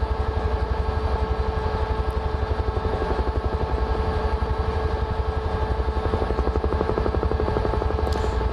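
Huey helicopter in Microsoft Flight Simulator 2024, its rotor beating in a fast, steady, even thump over a continuous loud engine drone, near and unbroken throughout.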